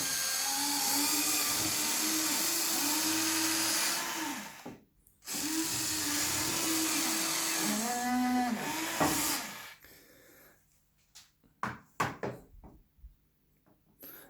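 A 1:14 scale HUINA 580 full-alloy remote control excavator whirs with a steady motor drone and rising and falling servo whines, then cuts off, leaving scattered clicks and knocks.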